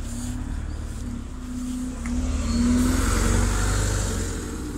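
A bus driving past on a street in Târgu Mureș, its mid-pitched engine droning and rising as it nears, then swelling to a loud passing roar before easing slightly; no talking.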